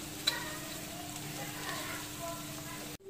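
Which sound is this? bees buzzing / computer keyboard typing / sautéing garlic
sautéing garlic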